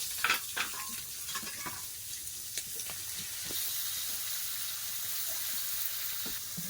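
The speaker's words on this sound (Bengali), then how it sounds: "একটু ভালো করে ভেজে নেবো" Prawns frying in a pan with five-spice and ginger paste, a soft hiss of oil with scattered clattering stirs early on, then a steadier sizzle close by.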